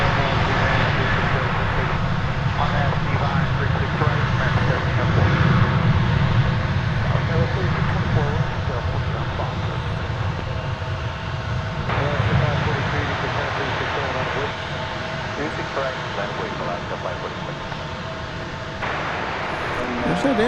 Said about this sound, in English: we can watch American Flight 1902. I think this is what this is. Going to Oklahoma City